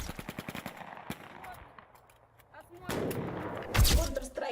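Russian military women firing weapons in bursts of gunfire, a quick series of sharp shots followed by louder, denser shooting, heard from close by with some background noise.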